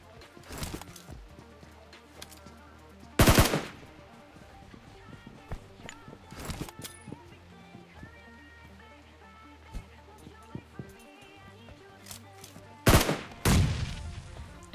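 Gunfire in a first-person shooter game comes from a house behind the player: a few sharp, loud shots stand apart, with fainter scattered shots, footsteps and brief talk between them.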